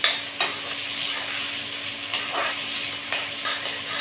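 Onions and green chillies fry in hot oil in a pan, giving a loud, continuous sizzle with several brief bursts where the pan is stirred. Nobody speaks.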